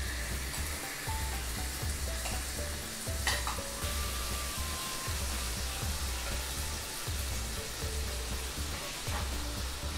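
Tandoori chicken sizzles steadily in a pan, a constant crackling fry with occasional stirring and scraping sounds over the top.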